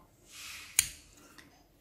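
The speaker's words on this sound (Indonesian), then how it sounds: "Oh ini kita gunting ini ya. Kita gunting 2 senti." Xiaomi Youpin Fizz scissors with ruler markings making one short cut, a single sharp snip after a soft rustle, close and clear, followed by a faint click.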